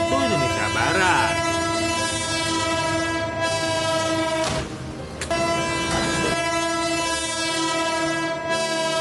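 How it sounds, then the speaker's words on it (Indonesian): A long, loud horn blares from the U76A Putri Deli passenger train near a level crossing in Serdang Bedagai, a sustained tonal blast held for several seconds over rumbling rail noise and clatter of the passing cars. "bersamaan dengan bunyi klakson kereta api yang panjang"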